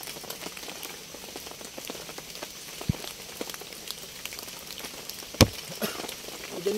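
Heavy rain pours over a bamboo shelter being built during a two-day downpour, making a steady soft patter with a few sharper drops standing out and no voices.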